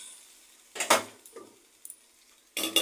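A cooking pot of simmering food is covered with a lid, heard as a few close metallic clanks and clatters separated by quiet gaps, with a final clatter at the end.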